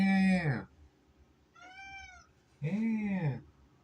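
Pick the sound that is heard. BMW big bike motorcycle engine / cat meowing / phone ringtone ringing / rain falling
cat meowing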